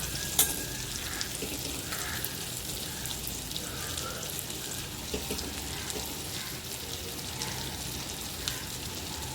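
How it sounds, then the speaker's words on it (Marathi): Stuffed bitter gourds fry in a pan with a soft, steady sizzle and occasional spatula clicks as they are flipped, fairly quiet and close, with no talking. "एका साईडने छान फ्राय झाले आहेत पलटी करूया"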